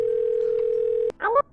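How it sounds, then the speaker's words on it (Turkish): Phone call ringing in the Minecraft video game: a steady sustained ring tone holds for about a second, then cuts off as a voice starts talking. "Şunu arayayım. Aha çalıyor."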